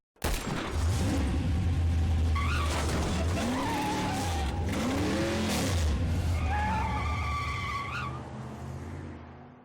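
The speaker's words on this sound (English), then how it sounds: "The delivery van from Crash Course has sounds compiled into the model, so don't be afraid if loud noise plays now." Delivery van in the video game Tumtara, engine droning loudly as its tires skid and squeal in several long sweeping screeches, close and continuous with no speech.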